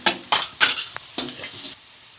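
Spice powder frying with onion and garlic in a hot pan, heard as a few sharp stirring scrapes and sizzling bursts close up, ending abruptly.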